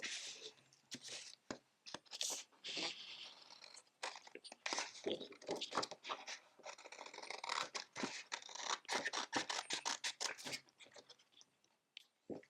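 Scissors snip through a paper strip for a miniature dollhouse kitchen drawer, giving a run of crisp, close cuts and paper rustles in irregular bursts.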